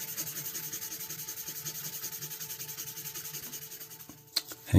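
A metal knife blade is rubbed with Mothers metal polish in quick, rhythmic back-and-forth strokes, a soft, even scraping pulse close by, ending with a couple of small knocks.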